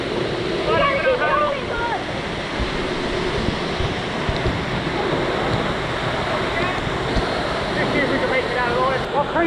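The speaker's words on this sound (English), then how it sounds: "We're under a waterfall right now!" A constant, heavy roar of falling water surrounds the listener beneath Kawasan Falls in a Cebu jungle canyon, dense and close with wind buffeting, as voices talk over it.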